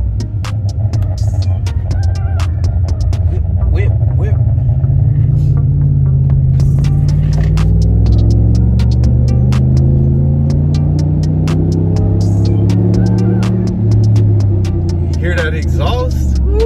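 Exhaust of a brand-new Ram Rebel pickup truck idling and revving, a loud steady throbbing rumble with rising and falling engine harmonics throughout, close to the microphone.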